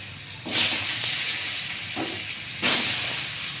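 Potatoes with salt hiss and sizzle loudly in a hot pan while Bengali cabbage ghonto is being cooked; the hiss swells sharply twice and holds between the surges, with no talk.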